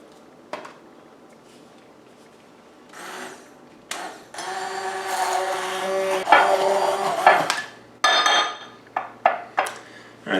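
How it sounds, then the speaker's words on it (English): Immersion blender whirring through shrimp tartare with pecorino cheese and olive oil in a kitchen in Viareggio, Italy: a loud, sustained motor buzz in bursts with pauses, plus clinks and knocks against the container. "we're going to use our immersion blender here"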